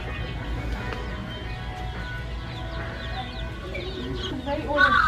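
Roosting chickens give soft, scattered clucks over a steady low hum, with a slightly louder call near the end.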